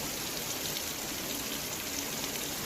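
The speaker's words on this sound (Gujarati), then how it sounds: "આજે સવારથી પણ વરસાદનું જોર છે" Steady, dense downpour in Vadiya, Saurashtra, Gujarat, pours down with a constant broadband hiss, loud and unbroken throughout, no voices.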